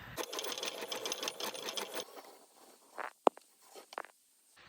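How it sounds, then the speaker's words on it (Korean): Steady rapid mechanical whirring with a rhythmic clatter as hand-dyed yarn strands are held together and wound into a ball on a winder, then stopping, followed by a few sharp clicks and handling noises. "이제 부피를 줄이려고 실을 합사해서 감아가려고 합니다"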